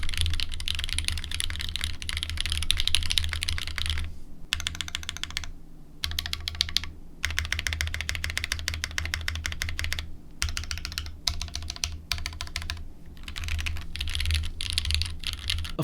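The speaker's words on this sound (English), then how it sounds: "The sound is pretty accurate to a Gateron yellow." Rapid, continuous typing on a 65% mechanical keyboard with Gateron yellow switches and no foam, with short pauses, crisp clacking keystrokes up close and no voices.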